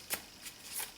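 Quick riffling shuffles of a tarot card deck, three soft bursts of papery flutter close by, fairly quiet with no talking.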